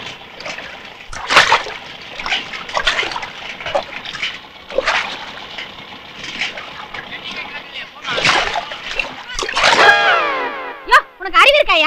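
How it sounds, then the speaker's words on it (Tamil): Water is poured and splashes onto a person in several bursts and sloshes, with trickling water and voices talking over it. "ஏன் என் மேல தண்ணி ஊத்துன?"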